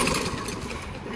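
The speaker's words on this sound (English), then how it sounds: "now pull really hard and watch your lawnmower" A lawnmower engine being pull-started on a cold start, a dense rumbling mechanical churn sustained close by for the whole moment, loud and steady without clear breaks between strokes.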